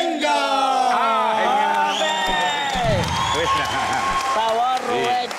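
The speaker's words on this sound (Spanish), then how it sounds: "un aplauso y aureola para el gran Rubencho" Audience applause and cheering at a heartfelt serenade for Rubén Darío Arcila, rising under a loud sung or shouted voice with harmonic tones, whoops over steady clapping throughout.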